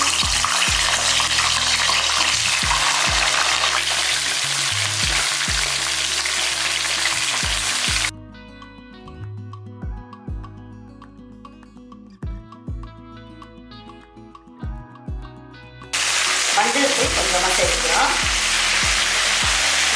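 Steady, loud sizzling of eggplant frying in hot oil on a low flame, broken by a quieter stretch of soft crackles and clinks before the full sizzle returns.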